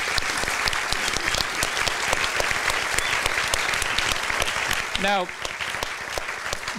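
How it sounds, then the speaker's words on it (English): Audience applause for a panel at a public talk on food futures at a gallery, a sustained dense clatter of many hands that runs throughout, with a voice briefly starting to speak near the end. "join me in giving them a round of applause"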